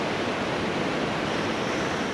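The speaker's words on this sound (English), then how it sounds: "That spray coming off of those falls." A waterfall in Isle Royale National Park roars in a dense, continuous rush of falling water, loud and unbroken from start to finish.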